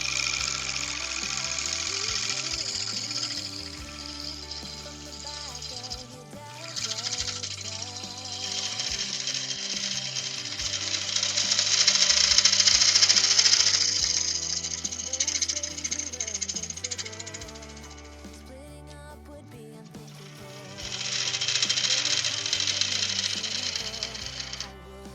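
A bottom cut is made on a natural edge wooden bowl, with a rattling, chattering cutting noise that rises and falls in bursts, loud in the middle and again near the end, without talk.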